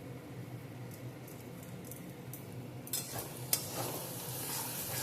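Spoon stirring Bengali borir jhal, a lentil-dumpling curry, in a pan, with a faint steady sizzle that picks up into louder scraping and frying noise partway through, plus one sharp clink of utensil on metal.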